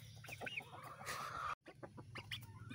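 Chickens clucking close by, with a rooster's low clucks and short calls over scratchy background noise, a brief dropout near the middle.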